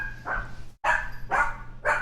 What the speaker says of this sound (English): so do I hear your dog barking